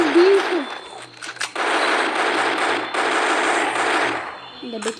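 Rapid machine-gun style gunfire from the mobile video game Lara Croft Relic Run rattles loud and continuous in sustained bursts, with brief gaps and game effects around it.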